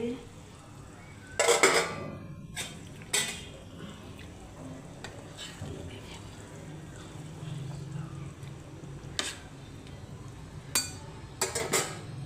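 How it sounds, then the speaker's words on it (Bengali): Fried fish are tipped into a pot of boiling curry, with sharp clinks and clatters of metal utensils and pot against a low simmering bubble, scattered bursts amid quiet stretches. "তরকারিটা ফুটে গেছে, এখন আমি মাছগুলো ঢেলে দিচ্ছি"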